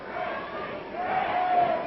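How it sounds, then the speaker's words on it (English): Wrestling crowd at a Mike Miller versus Don Running Bear match chanting and yelling together, a steady massed roar of voices that swells slightly toward the end. "Listen to the crowd. They're yelling, break it, break it."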